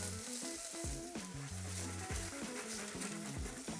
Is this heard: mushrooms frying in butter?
yes